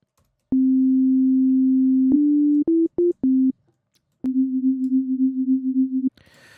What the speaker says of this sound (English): let's just start with some sine waves first